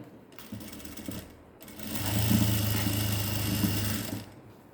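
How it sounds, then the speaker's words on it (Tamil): A sewing machine stitches a blouse cup seam: a short burst of stitching, a brief pause, then a longer steady run of rapid needle chatter, close and moderately loud. "இப்படி உள்ளே தள்ளிட்டு ஒரு தையல் கொடுங்க"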